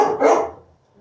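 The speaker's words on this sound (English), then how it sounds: "sorry, the dogs." Dogs barking indoors, one loud close bark with a short burst that fades quickly into quiet.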